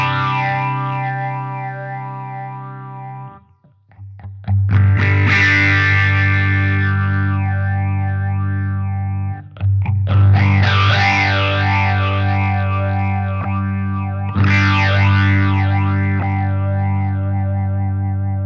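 Vintage Electro-Harmonix Poly Phase effects pedal processing a sustained, harmonically rich instrument, with swirling, sweeping phase and chorus-like modulation over distorted tones; loud, continuous, with a brief dip and several re-struck passages, no talking.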